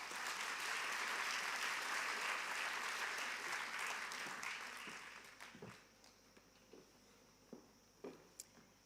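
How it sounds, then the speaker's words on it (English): Audience applause at an evening gala, a dense sustained wash of clapping that fades out over several seconds, leaving a few scattered individual claps and faint footsteps at a moderate distance. "Let's give her a warm round of applause."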